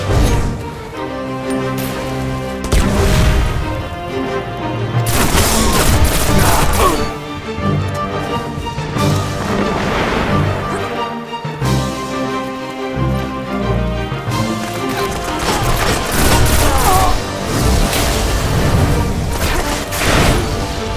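Golden Gun super firing in the video game Destiny during a Rumble match, heavy booming and cracking impacts with crashing blasts over driving game music, loud and continuous throughout.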